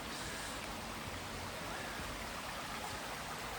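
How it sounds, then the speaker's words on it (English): A river flows where Hebden Water joins the River Calder in Hebden Bridge, a steady, close rushing wash of water with no voices. "Hebden Water turns into the Calder, the River Calder."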